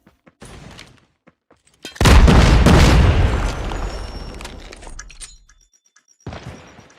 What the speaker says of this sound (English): Kira sends a nade through.